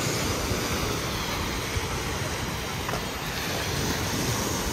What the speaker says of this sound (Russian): Пляж.